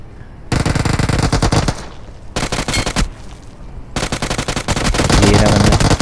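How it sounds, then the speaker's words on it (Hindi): Gunfire from behind in PUBG Mobile: loud, rapid machine-gun bursts come in three long stretches with brief pauses between them, dense and close, with no talking. "पीछे से फायर हो रहा है"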